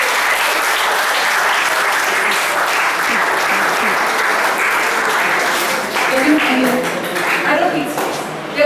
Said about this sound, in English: Clap for my lovely friend.